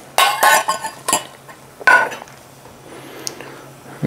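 Onions tossed into a carbon steel aluminum clad pan, with several close clattering clinks and scrapes of utensil on metal, followed by a softer low sizzle and an occasional light tap.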